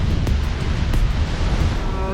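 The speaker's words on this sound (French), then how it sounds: "Là il y a 29 nœuds de vent" Strong wind of about 29 to 30 knots at sea during a sailing race roars over the microphone with a low, steady rumble and rushing water beneath, buffeting continuously throughout.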